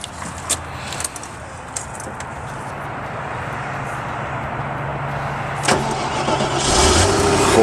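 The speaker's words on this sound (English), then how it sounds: "let's see if this thing will start." A Land Rover 4x4 cranks and catches near the end after a stretch of quiet rumble and a few clicks and knocks, then settles into a louder, rough idle.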